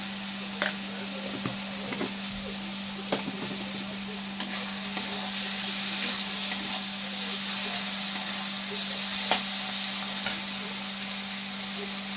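Chilli chicken sizzling steadily in a pan, a constant frying hiss with occasional light clicks and taps of a spoon stirring, close and even, with a low steady hum underneath.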